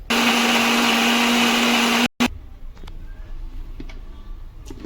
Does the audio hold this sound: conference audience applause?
no